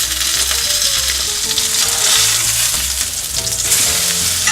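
A thick ribeye, about an inch and a half, searing in a cast iron pan, producing a loud, dense, unbroken sizzle with a low tonal backdrop.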